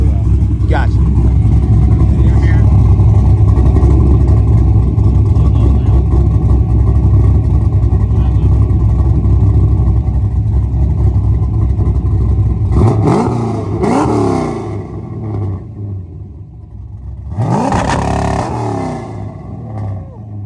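An LS V8-swapped BMW with a 2-in, 2-out Flowmaster 40 exhaust roars steadily near its rev limit for about thirteen seconds, loud and close, then drops off while people talk.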